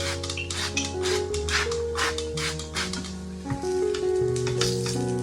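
Dough flatbread pan-frying on low heat with a coat of sprayed cooking oil gives a close, steady sizzle with crackling pops throughout and a low humming tone beneath.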